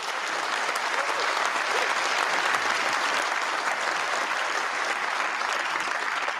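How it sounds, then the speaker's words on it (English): Party conference members applaud in a large hall, a dense, even wash of clapping from a big crowd that holds steady from start to finish. "You say that, and the members applause"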